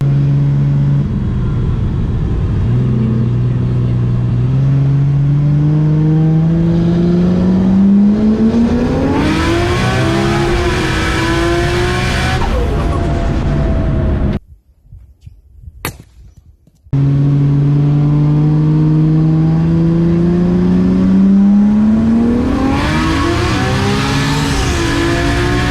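A Barra-engined seven-seater Bedford van laps a race track, its engine roaring loudly and close as it revs and climbs in pitch through the gears, with a brief near-silent cut midway before the howl resumes.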